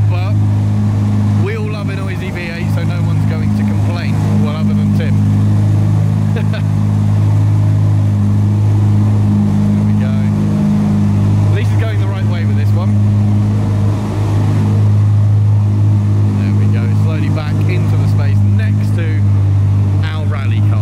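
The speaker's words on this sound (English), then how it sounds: "Brad, for whatever reason, has decided to fire the engine to move it from there to there" A car engine fired up in a garage to shift the car a short distance, a loud steady idling drone with low harmonic hum running throughout, while people talk over it.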